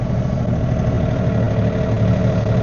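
A John Deere tractor's snow blower engine runs steadily at close range, a loud, continuous low rumble with no break and no voices.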